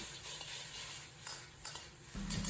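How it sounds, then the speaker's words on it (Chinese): Okra sizzles loudly in a hot wok as it is stir-fried and soy sauce is splashed in, a steady close hiss with scraping stirs and a sharper burst near the end. "简单翻炒几下，放入少许生抽炝锅"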